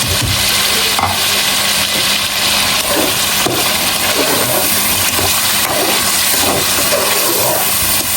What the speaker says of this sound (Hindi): अब वो हम डाल देंगे इसमें और इसके साथ भी अच्छे से हम भुनाई करेंगे।